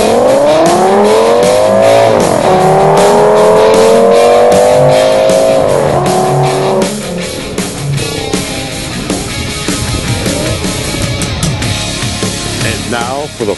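Cars racing at the Pittsburgh Super Speedway, with loud rising and falling engine whine from a pack sweeping by for several seconds, then fading into rougher, quieter engine noise and track ambience.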